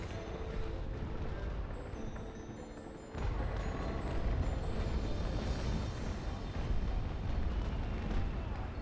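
A sailing ship explodes in the naval combat game Naval Action, a dense rumbling roar that swells suddenly partway through and stays heavy and sustained over continuous battle noise.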